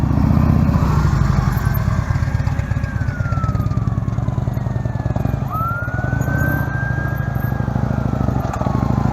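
A heavyweight motorcycle's engine roars and drones steadily, its pitch rising and falling as it leans through a low-speed bend, with a siren-like wail sweeping over the noise.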